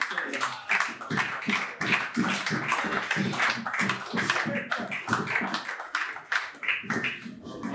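An audience at an album launch ceremony claps for the rector, rhythmic, fairly close hand claps repeating steadily at a regular pace throughout.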